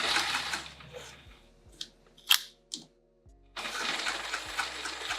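Sewing machine stitching a see-through tote, running in a steady buzzing burst, pausing with a few light clicks and thumps, then starting again close by.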